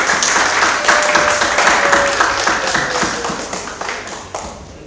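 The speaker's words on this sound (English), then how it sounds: "To support them, please give them a round of applause." An audience at a public debate applauding, dense clapping that swells then gradually fades over a few seconds, a little background voice underneath.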